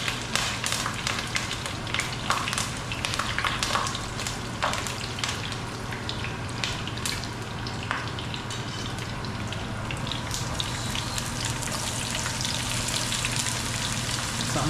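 Mutton curry simmering in a pot for a long time, a steady dense bubbling and sizzling with scattered pops and crackles, close and continuous for the whole stretch with no talking.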